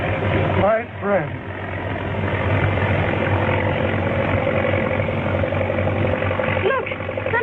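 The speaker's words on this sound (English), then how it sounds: "Look, something's wrong with the plane." A steady engine drone with a propeller-like hum fills the background, with a brief pitch swoop near the start.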